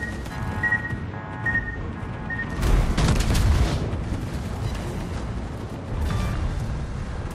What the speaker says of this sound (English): Destroyer blown up.